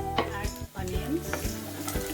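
Onions hitting hot oil with ginger and green chilies for an egg masala, giving a steady close sizzle with stirring clatter throughout and a brief dip partway, no talking.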